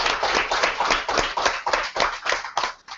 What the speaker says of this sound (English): could you please applaud for him?